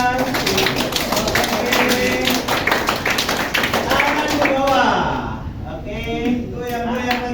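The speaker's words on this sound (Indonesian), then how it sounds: "tepuk tangan di atas" A classroom of children claps hands raised above their heads, a dense, steady patter of many overlapping claps that continues loudly for several seconds before thinning out, with a voice speaking over the end.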